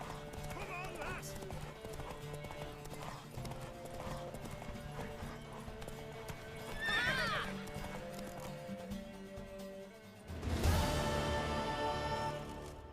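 In The Witcher III: Wild Hunt, a mare's hooves clip-clop in a steady gallop with a whinny midway, followed by a loud burst of noise; speech is mixed in.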